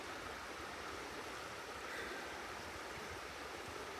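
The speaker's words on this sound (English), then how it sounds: "I'm right beside Portuguese Creek here" Portuguese Creek flowing among trees, a steady, soft broadband rush of running water heard alone and fairly faint, without voices.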